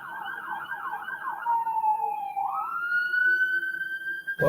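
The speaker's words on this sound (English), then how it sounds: "Sounds like a police car." A sheriff's police car siren wails outdoors, first a rapid warbling yelp, then sliding into a long rising and falling wail, fairly close and steady with no talk over it.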